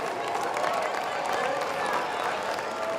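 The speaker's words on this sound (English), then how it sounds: "let's give the University Chorale, Symphonic Winds, and Dr. Eric Poole a warm round of applause" Warm applause at the 2023 Howard University Commencement for the University Chorale, Symphonic Winds and conductor Dr. Eric Poole, a thick continuous wash of clapping from a large crowd with a voice carrying over it.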